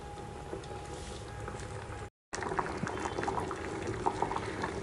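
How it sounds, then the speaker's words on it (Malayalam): Tamarind water being poured into a pot of boiling vegetable sambar, giving a steady bubbling, liquid rush that stops briefly for a moment of silence before resuming, close and moderately loud. "ഇനി നമുക്ക് ഇതിലേക്ക് പുളി പിഴിഞ്ഞ് കൂട്ടാം"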